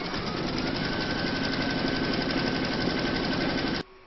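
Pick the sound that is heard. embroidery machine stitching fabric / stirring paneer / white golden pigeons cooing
embroidery machine stitching fabric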